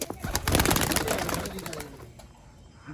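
Pigeons coo in a loft, a dense murmur of many birds close together, louder at first and then easing off.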